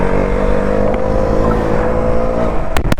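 A KTM Duke 200 motorcycle engine drones loud and close with a steady, gravelly note for a few seconds. A couple of brief sharp knocks come near the end.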